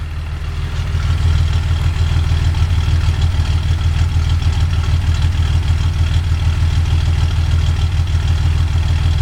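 A loud, deep engine of a 1982 Datsun 280ZX with a ceramic-coated header and straight exhaust idles with a rough, throbbing exhaust rumble, steady and close after a brief swell at the start.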